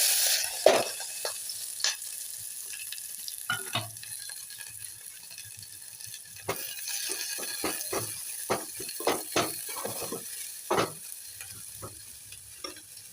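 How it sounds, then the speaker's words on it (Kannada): Sliced onions and green chillies hit hot oil already holding cumin seeds and curry leaves for Betageri chutney, a steady close sizzle broken by frequent sharp scrapes and knocks of a stirring spoon against the pan. "ಈರುಳ್ಳಿ ಮೆಣಸಿನ್ಕಾಯಿ ಹಾಕ್ಕೋತೀನಿ ರೀ."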